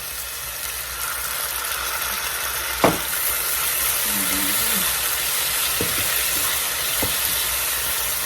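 Fresh freshwater clams from a Finnish lake are stir-fried in a pan with roasted chili paste and a little water. A soft, steady sizzle continues under occasional scrapes and knocks of a utensil against the pan.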